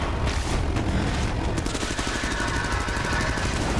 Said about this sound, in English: Warm up the disintegrator cannon.